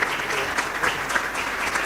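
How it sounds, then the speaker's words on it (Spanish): A church congregation gives a brother a hearty round of applause, dense steady clapping from many hands filling the room with no pauses. "Un fuerte aplauso pues para este hermano."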